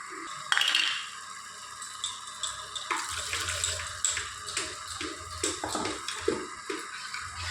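Water pours and splashes into a metal pot, with a few clinks, steady trickling that thickens partway through.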